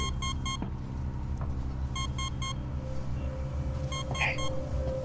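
Beeping in the video game Alien Isolation: clusters of three quick, high electronic beeps repeat several times over a low rumbling background.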